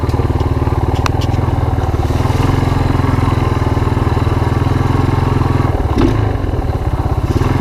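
Yamaha Moto4 ATV engine idling steadily after a cold start, a loud, even, close putter with a rhythmic throb that holds throughout, a brief clatter near the end.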